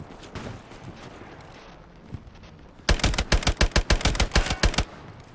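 Grease gun submachine gun firing in the World War II shooter Hell Let Loose: a rapid burst of about a dozen loud, evenly spaced shots after a stretch of quieter battlefield ambience.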